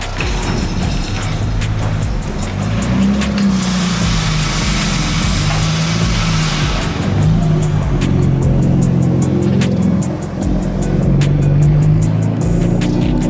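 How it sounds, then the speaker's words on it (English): Toyota Supra with a big top-mount turbo rolling into a workshop, a loud, close engine burbling and surging unevenly with mechanical clatter and a hissing rush in the middle. "a big turbo top mount Supra is coming in right now"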